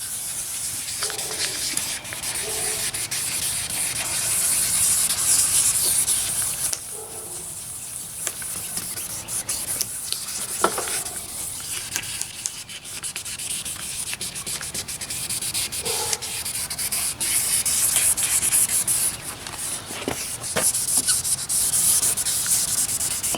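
Steady rubbing and sanding on a faded, fogged car headlight lens during restoration, a continuous hissy scrub with brief pauses and changes in pressure, close and alone without talk.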